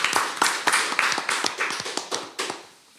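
One person, or a small group, claps in a quick, sharp run of hand claps that is close and fairly quiet, then trails off toward the end.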